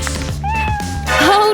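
A cat meows twice over a steady low hum: first a long, level cry, then a shorter call that rises in pitch. Both are close and clear.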